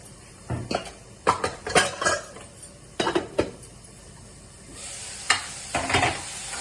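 A spoon scrapes and clatters against a pan while eggplant curry with ginger, green chili and coriander is stirred, in irregular bursts over a soft sizzle.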